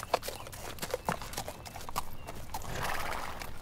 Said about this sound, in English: we've got 2 more horses hitched here that you can borrow. Let's saddle up and get moving.